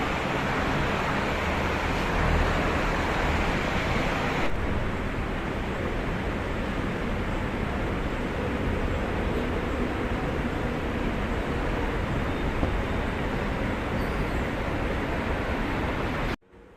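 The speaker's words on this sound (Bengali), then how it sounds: "তো আমাদের মেট্রো চলে এসছে।" A metro train pulls into a station in a steady, loud roar of wheels and rushing air that shifts in tone partway through, then cuts off abruptly near the end; no one speaks.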